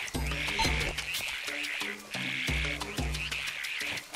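Frogs croak in the Zelda: Echoes of Wisdom video game, in the Faron Wetlands, a loud, steady chorus of repeated low rhythmic croaks layered over a high insect-like buzz, with no voices.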